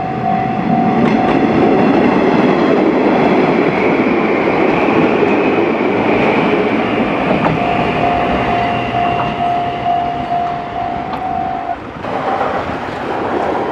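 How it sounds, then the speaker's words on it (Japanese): An Odakyu Line train rumbles past close by near Ashigara Station, Japan, loud and continuous, with rhythmic rail clatter and a steady tone running through it, and no one speaking. "あ、電車来たな"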